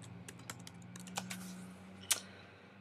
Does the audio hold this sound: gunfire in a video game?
no